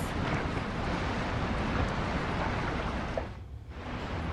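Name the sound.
stormy sea surf and wind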